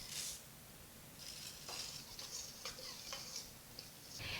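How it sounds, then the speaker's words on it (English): Chocolate chips being stirred into cashew flour cookie dough in a bowl, heard as faint, soft scraping and ticking spoon strokes over a quiet hiss, with no voices. "Now we stir in our chocolate chips."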